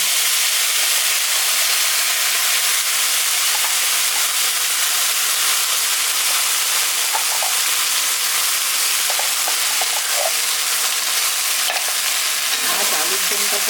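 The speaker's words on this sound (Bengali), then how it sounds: "লং, দারচিনি আর এলাচটা একটু ফাটিয়ে দেবো।" Cloves, cinnamon and cardamom crackle and sizzle in hot oil in a pan for a cashew-paste potato dum, a steady loud frying hiss with scattered pops throughout.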